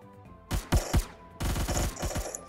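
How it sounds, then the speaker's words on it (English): Gun in the video game Phantom Forces fires short bursts, a few single heavy shots and then a longer rapid burst, loud and close. "Now reload it and shoot at me and then pull down."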